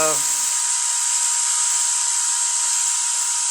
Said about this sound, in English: Sounded like the bearing inside the motor.